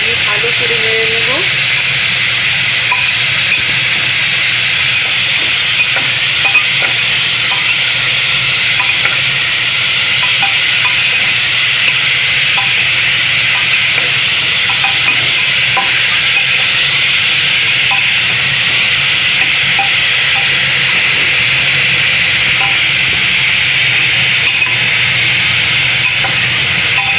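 Tomato and turmeric frying in a pan give off a loud, continuous hiss and sizzle with faint scraping of a spoon stirring throughout, steady and close up.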